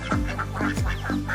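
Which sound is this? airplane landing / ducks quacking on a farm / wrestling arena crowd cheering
ducks quacking on a farm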